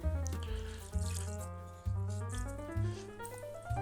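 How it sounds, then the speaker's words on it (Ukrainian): Water runs from a tap into a pot of vegetables for a beet salad. The stream gurgles steadily and close, with rising tones as the pot fills and a few brief surges, and no talking. "Пересипаємо це все в баняк, заливаємо водою."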